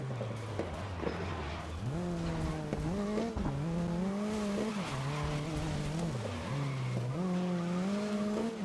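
Audi race cars in the racing game GRID (2019) roar with rising and falling engine pitch through gear shifts, tires squealing as they skid, loud and continuous with no talking.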